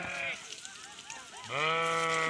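A sheep in a field in North Karnataka bleats briefly, a voice murmurs, then a long, loud, wavering bleat rings out close by.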